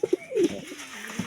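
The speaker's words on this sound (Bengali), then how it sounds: "এই যে আমার দেশি কবুতরটা" A local pigeon gives a short, close coo, a couple of quick low notes sliding into a longer murmuring call, heard alone over quiet background.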